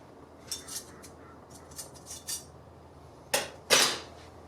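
Metal clutch plate and spring are pulled from a Harley Davidson touring model, giving a series of light metallic clinks and rattles, with two louder clanks near the end against a quiet background.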